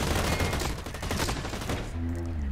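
Rapid, dense gunfire from the first-person shooter Blacklight Retribution, sustained bursts of automatic shots filling most of the moment before a lower engine-like hum takes over near the end.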